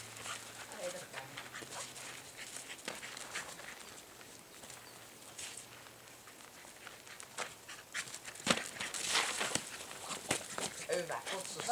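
A dog named Karri during play in a dog temperament assessment, moving and vocalizing briefly outdoors while people talk over scuffling and handling noises, with a louder burst of activity near the end.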